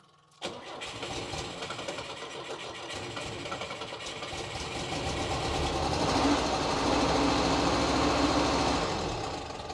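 A Pinzgauer military off-road vehicle's engine starts without the choke after a brief crank and settles into a loud, rough idle that rises and swells, heard close and alone.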